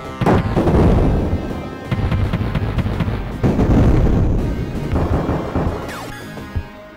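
Game explosions from shooting down targets in the Sega Genesis flight game F-22 Interceptor come as loud, booming blasts, one after another, with a rumbling tail that fills the whole stretch.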